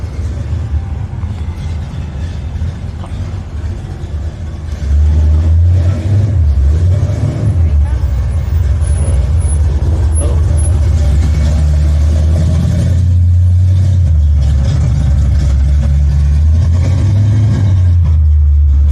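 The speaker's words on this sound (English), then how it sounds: "You guys know I like cars. Yeah, you heard that, Nova." A car engine revs repeatedly, rising and falling in loud surges, with a steady rumble underneath and no talking.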